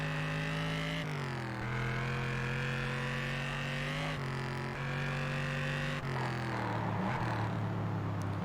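A continuous, steady motorbike engine drone in the video game Test Drive Unlimited, with clear harmonic tones that shift pitch up and down as the revs rise and fall, like gear changes, with no talking.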